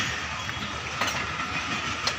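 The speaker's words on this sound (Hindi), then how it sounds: "ये देख रहे हैं ट्रेन पाकिस्तान रेलवे है रहमान बाबा, ये इस टाइम चल रही है" A running Pakistan Railways train passes with a steady broadband rumble and hiss and a few faint clicks from the wheels on the rails, close by and continuous, with no voices.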